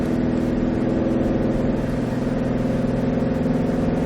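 Shelby GT500 engine pulling hard at low speed on a track, a steady, loud mid-pitched drone with a sustained tone, running continuously without a clear break.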